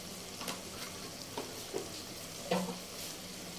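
Potato and egg curry masala roasting in a pan, a steady low sizzle with a few soft stirring scrapes and spoon taps, close and fairly quiet.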